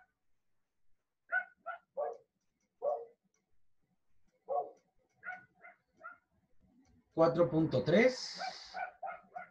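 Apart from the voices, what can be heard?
dog barking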